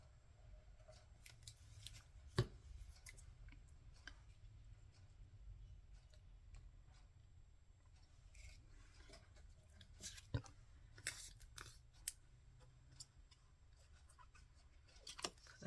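Scissors snip through paper for handmade cardmaking, a scatter of quiet, close, crisp cuts with a few sharper snips, set against faint room hum and no talk.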